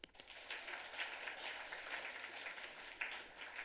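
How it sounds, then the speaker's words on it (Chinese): Sustained applause from a church congregation during a Mandarin Sunday worship and sacrament service, dense and continuous clapping with a brief louder swell near the end, no talking. "拍掌。"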